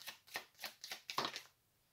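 Several quick papery slides and flicks in a row as tarot cards are drawn from a deck, close and soft, then silence.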